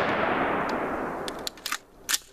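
An AR rifle bump fired outdoors lets off a loud, dense rapid burst of gunfire, then several quick separate cracks and a final sharp shot, all close and without talk.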